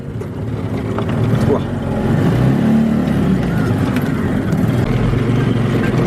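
A homemade child-sized jeep drives with a steady, droning motor hum that swells slightly and holds at a close, loud level, while people talk over it.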